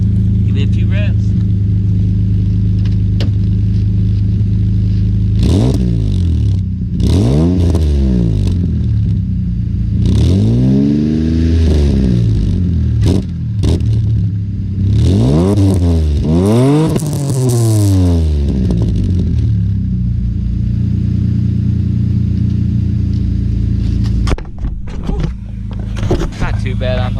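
A Mitsubishi Eclipse with a new exhaust, an old oil leak showing, is revved several times; the engine note rises and falls in repeated loud sweeps over a rumbling idle, with rattles between revs.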